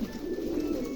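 Rajshahi Giribaz pigeons coo in a low, throaty burble, close and steady for about a second.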